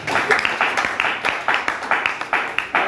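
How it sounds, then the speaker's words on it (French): A church congregation applauds, with steady rhythmic clapping repeating at an even beat and filling the room at moderate loudness, with no voices over it. "On acclame pour la gloire du Seigneur"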